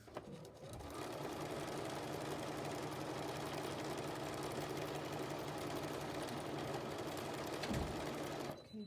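Close, steady whir of a sewing machine stitching paper-pieced quilt blocks, running continuously for several seconds before stopping.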